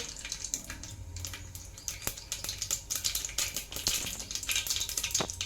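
Oil crackles and sizzles as mustard seeds fry, with sharp popping spatters scattered throughout, close and fairly loud, with no voices.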